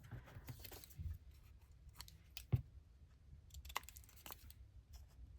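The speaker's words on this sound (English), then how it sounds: "you just cut it with scissors, you know, that you have in your hand" Paper being cut with scissors during a file-folder craft project, a few quiet snips and crisp clicks scattered over several seconds with one sharper cut in the middle, close and fairly faint.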